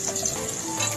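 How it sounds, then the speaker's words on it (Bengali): Chana dal sizzles in hot tempering oil for mango pulao, a brief, steady, close frying hiss with light crackle and no voices. "ছোলার ডালটাকে ফোড়নে দিয়ে এটা একটু ভাজা ভাজা করে দিচ্ছি"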